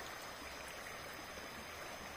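Steady rush of river water flowing past, a dense continuous wash of noise with no breaks, heard alone at moderate level on a river between Viçosa and Martins.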